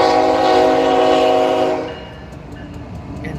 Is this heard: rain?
no